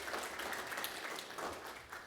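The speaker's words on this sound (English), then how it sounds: "So a round of applause to all you operators" Audience applause at an Atlassian Summit conference, a steady wash of many hands clapping, moderately distant and sustained throughout.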